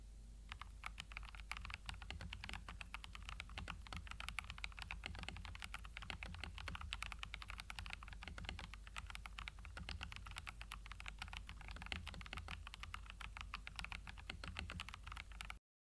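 Steady, rapid typing on a mechanical TKL keyboard with crisp clacky keystrokes, continuous and close, no voices.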